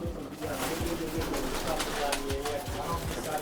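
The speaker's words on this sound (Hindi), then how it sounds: "देखिए ये कबूतर देखिए" An 18–19-year-old pet pigeon coos in a loft, soft repeated low calls heard close by while someone talks over them.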